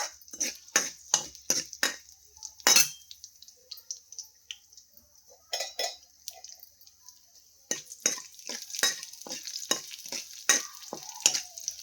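Mustard seeds and cumin crackle and spit in hot oil, a rapid run of sharp pops and sizzling bursts in uneven clusters, close and loud with short quiet gaps between.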